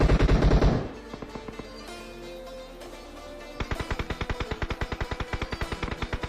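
Gunfire in the mobile battle royale game PUBG Mobile, played on an iPad mini 5: a loud opening burst, then a pause with scattered shots, followed by a rapid, evenly spaced automatic volley.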